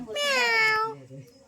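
A cat at a village house in Konkan gives one clear, drawn-out meow, close and fairly loud, followed by a softer murmur of voices.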